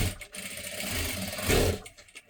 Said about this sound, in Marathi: हे पहा एकदम कडेकडेला शिलाई मारून घ्यायची आहे ते लक्षात ठेवा.